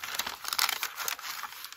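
Ordinary desk paper being crumpled close up, a dense crinkling rustle that runs steadily with small crackling peaks throughout.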